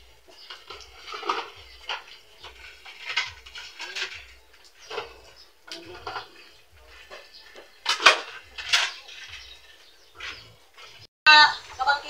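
Plates and dishes clink and clatter during hand washing, irregular knocks and scrapes near and moderately loud, with faint bird or chicken sounds in the background and no talking.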